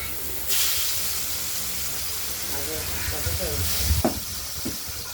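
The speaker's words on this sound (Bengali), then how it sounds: "আমরা এবার কড়াইয়ের তেলটা গরম আগেই হয়ে গিয়েছিল, সেই উচ্ছেগুলো ভেজে নিলাম।" Steady frying hiss of bitter gourd pieces in hot mustard oil, a continuous sizzle with occasional stirring clinks and faint background voices.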